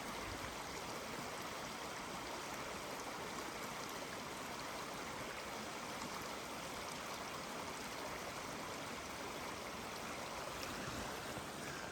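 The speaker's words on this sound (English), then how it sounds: "here's our Spring Creek" Spring Creek flowing below a campground at Perry South on the Metolius Arm, a steady broadband rush of running water that stays constant and fairly near throughout, with no voices.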